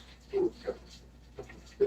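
A dog gives a few soft, brief, high whimpers, spaced out over a couple of seconds and heard faintly at close range.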